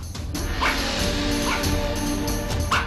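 A dog barks three times at roughly even intervals, sharp and close, with faint background noise between the barks.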